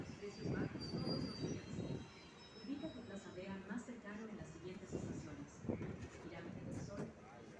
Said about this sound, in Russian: Вот такое метро в Перу.